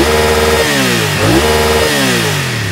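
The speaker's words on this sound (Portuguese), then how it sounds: "Esse é um ronco de um bicilíndrico." BMW F 900 R twin-cylinder motorcycle engine revving close by, loud throttle blips with pitch rising and dropping twice over a few seconds, gruff and pulsing.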